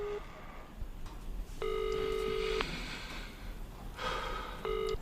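A telephone rings with electronic tone bursts: one long ring, then a shorter one starting near the end, over quiet room noise and faint breathing.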